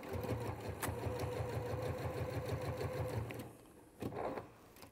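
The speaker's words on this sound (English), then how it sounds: "I'm going to top stitch 1/8 of an inch all the way around using the stitch length number 4." A sewing machine top stitching fabric at stitch length 4 runs in a steady, rapid mechanical chatter for over three seconds, then stops, followed by a brief handling sound.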